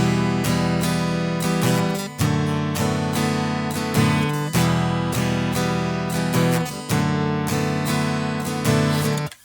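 Acoustic guitar strums the repeating two-chord pattern of a song, steady rhythmic strokes cycling every couple of seconds with brief breaks between phrases, played alone without voices.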